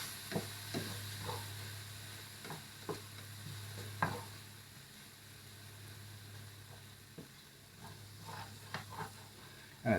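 A mixture is stirred around a pan of bacon grease beside steak and feta green beans, with a faint steady sizzle under scattered light scrapes and utensil knocks, fairly quiet and with no voices.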